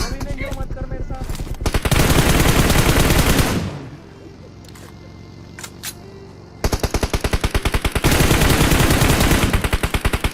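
Gunfire in a mobile battle royale game comes in loud, rapid automatic bursts, drops into a quieter pause with a few isolated sounds, then returns as sustained close firing.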